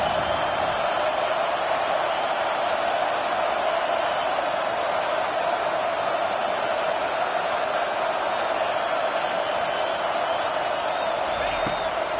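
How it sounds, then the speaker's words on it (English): A steady roar from the home stadium crowd fills a College Football 25 game as the defense faces third down, a constant wash of cheering noise. "Here comes this home crowd as the defense tries to get off the field on third down."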